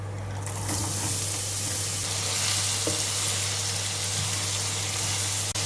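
Finely chopped pumpkin hits a hot pan of chillies and curry leaves for a Kerala thoran, setting off a loud, steady sizzle and hiss with faint stirring scrapes, no voices over it.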